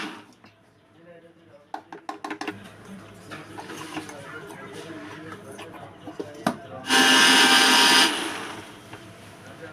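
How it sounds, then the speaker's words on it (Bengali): Scattered clicks and clatter give way to one loud, roughly one-second whir of a mixer grinder dry-grinding cumin, peanuts and gram flour without water. "জল ছাড়া মিক্সার গ্রাইন্ডারে মিহি করে বেটে নেব"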